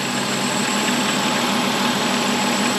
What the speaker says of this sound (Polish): klima ruszyła, ale słychać, że szumi